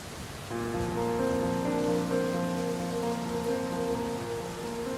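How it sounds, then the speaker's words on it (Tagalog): Rain falling steadily on surfaces, a constant dense patter at moderate loudness, with sustained musical tones running underneath throughout. "ang sarap panoorin ng ulan, no?"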